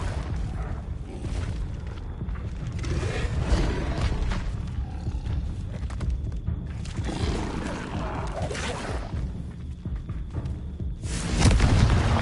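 Booming fire-spell blasts from the Confringo spell in Hogwarts Legacy, a dense run of roaring explosions and rumbling impacts filling the whole stretch, loud and close, with a heavier burst at the end.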